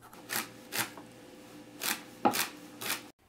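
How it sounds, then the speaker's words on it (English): A knife chops parsley on a board in a few separate crisp strokes, close and fairly quiet, with short pauses between cuts. "I'm just finishing chopping here the parsley a little bit"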